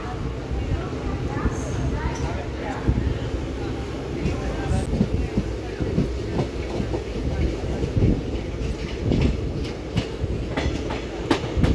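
The Meenakshi Express pulls away from the 3rd platform with a steady rumble and clickety-clack of wheels on rails, brief squeals and clatter throughout, while people talk nearby.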